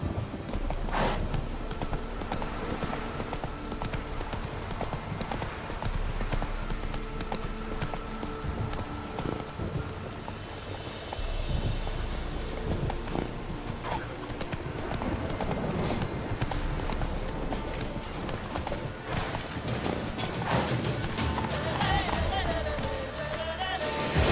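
In The Witcher 3 on PS5, the horse Roach's hooves clip-clop steadily and close by over a busy, continuous game soundscape.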